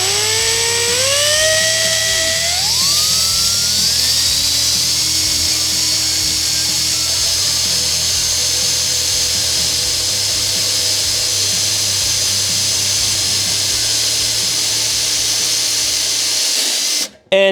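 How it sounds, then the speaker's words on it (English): A drill with a Milwaukee bit cuts into a Honda Civic metal oil pan, a sustained whirring whine that climbs in pitch as the motor spins up, then holds steady and close for over fifteen seconds before stopping abruptly. "one problem with drilling this oil pan is we're dealing with lots of metal shavings"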